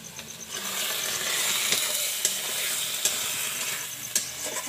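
Vegetables being stir-fried in a pan sizzle with a continuous hiss and occasional stirring clatter, close and steady, with no talking.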